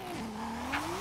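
Nissan 200SX S14 engine at full throttle in Forza Horizon 5, a single sustained rising-and-falling engine whine, steady and close, with no talk.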